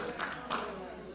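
A couple of sharp, isolated hand claps from the audience at lawyer Christophe Lèguevaques's Levothyrox action address in Marseille ring out close together over a faint murmur of the room, then fade.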